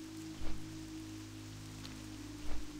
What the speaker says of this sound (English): Oh, it's raining. Raining at Theramore Isle.